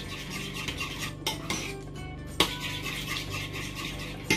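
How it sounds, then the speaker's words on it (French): A spoon stirring gelatin and chocolate in a pot for chocolate-pepper whipped-cream muffins: repeated scraping and clinking of utensil against metal, with a few sharper knocks, close up and without talk. "une fois que j'ai mis la gélatine, je remue bien pour pouvoir la casser"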